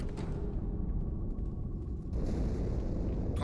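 A big explosion in the Halo 2 game, a heavy booming rumble that fills the low end and keeps rolling for several seconds, with a second surge partway through, loud and without talk.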